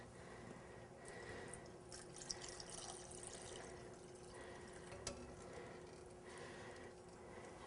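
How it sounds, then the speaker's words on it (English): About two cups of hot water pour into a cooking pot of mutter paneer. A steady, close liquid rush runs throughout with faint splashy spikes and no voices. "now we're going to add some hot water,"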